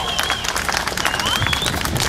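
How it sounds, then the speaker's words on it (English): An Australian music audience applauds the musicians, a dense wash of clapping and crowd noise with a faint voice or tone threading through. "Folks, give them a round of applause."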